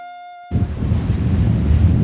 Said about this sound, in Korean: 그날 밤 파도가 심하게 칩니다